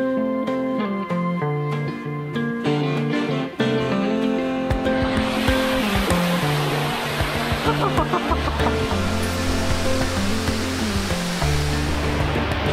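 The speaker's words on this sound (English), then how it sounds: "The waterfalls are so loud." A constant roar of rushing water from waterfalls at Gardens by the Bay, Singapore, fills the scene, with bright musical tones at the start before the heavy, broad roar takes over.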